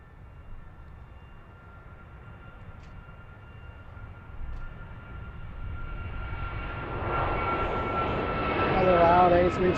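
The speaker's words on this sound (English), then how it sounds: "Another loud A321." Airbus A321 jet airliner on its takeoff roll at Philadelphia International Airport, a steady engine roar that builds gradually and grows louder toward the end, heard from a distance with a broad rumbling tone.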